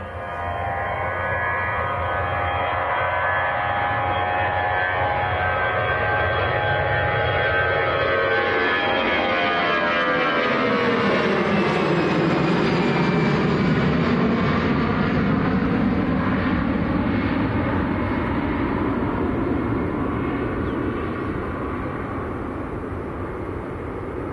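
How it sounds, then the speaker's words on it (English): A Lufthansa jet bound for Munich moves past at Manchester Airport, its rising engine whine and broad roar sweeping through in a pronounced pass about halfway, loud and sustained for the whole stretch. "So this is Lufthansa to Munich."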